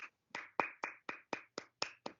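Sparse clapping during an online seminar on mental health, about nine separate sharp claps in an even, slightly slow rhythm, close and distinct with silence between each.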